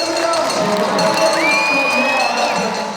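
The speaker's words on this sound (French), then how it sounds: "Et je pense qu'on peut applaudir les candidats." Audience at a Meilleur Ouvrier de France craft competition applauding and cheering the candidates, loud crowd cheers and whoops with a rising whistle, dense and close.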